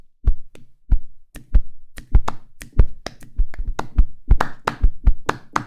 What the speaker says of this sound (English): Like claps and body slaps.